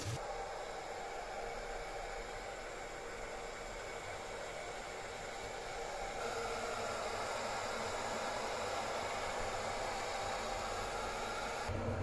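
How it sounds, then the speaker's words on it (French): An electric kettle full of water heats toward a boil, giving a steady, close rushing hiss that stays level and grows slightly fuller partway through, with no talking. "Là ça commence à bouillir, ça a mis un petit peu de temps mais il y a beaucoup d'eau"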